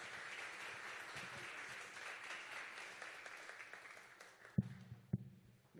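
Audience applause for the first invited speaker at a Red Bull Basement event, a dense sustained clapping from a crowd that gradually thins and fades, with a couple of sharp louder claps near the end.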